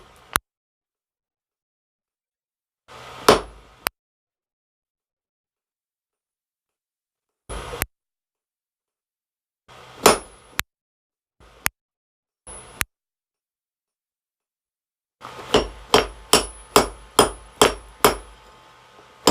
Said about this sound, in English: What I'm using here is just a 3-pound round hammer with a pean, cross pean on the back